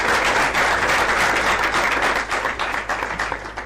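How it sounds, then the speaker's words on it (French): Studio audience applause at a Congolese entertainment TV show, dense and steady clapping throughout, loud and close, with no voices over it. "On applaudit pour le Buzz."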